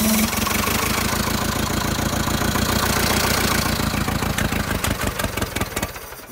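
Vintage Allis-Chalmers forklift engine running steadily with a rapid, loud, even chugging beat up close, then tapering off near the end as it stumbles.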